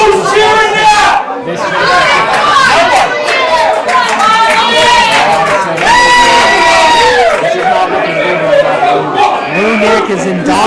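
A loud crowd at a 3WA wrestling event cheers and chatters continuously, shouts and whoops rising over the din, with a commentator's voice running underneath throughout.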